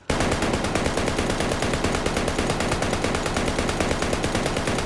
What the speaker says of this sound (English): I need to shoot this gun for 5 years to get the barrel smoke effect